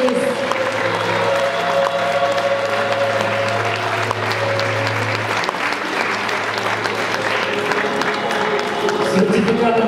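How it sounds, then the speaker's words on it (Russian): An award ceremony audience breaks into sustained, dense applause from a full hall, loud and steady throughout, with a low musical tone running beneath it for a while. "И эти аплодисменты звучат на вашу честь"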